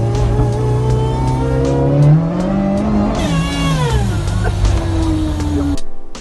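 A supercharged Toyota 4A-GZE engine revs hard close by, pitch climbing and dropping through gear changes with a whiny, buzzing edge, then cutting off abruptly at the end.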